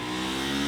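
A Kawasaki Ninja 500 twin-cylinder motorcycle engine holds a steady, loud rev with a dense, droning tone for under a second.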